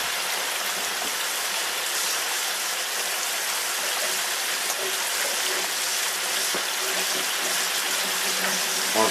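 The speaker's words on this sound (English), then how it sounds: "Wash my hands here." Tap water runs steadily from a kitchen faucet while hands are washed under it, a continuous broadband splashing rush that stays close and even for the whole stretch, with no speech.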